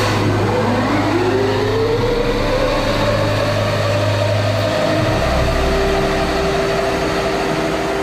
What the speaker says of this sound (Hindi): ये इंजन्स जब स्टार्ट होते हैं तब इनकी आवाज कमाल की होती है।